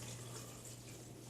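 Almond milk and water are poured into a Blendtec 625 blender jar, making a soft, continuous splashing trickle at low volume.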